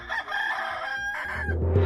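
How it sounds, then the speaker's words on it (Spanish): A rooster crows once in a farmyard at sunrise, a clear, drawn-out cock-a-doodle-doo heard close and alone. "un gallo que había en el corral, único habitante de antiguos esplendores, cantaba su kikiriki."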